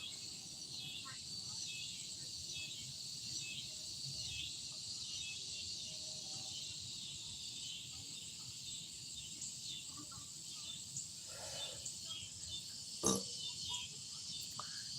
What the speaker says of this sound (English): check out the cicadas behind me. See if y'all hear them.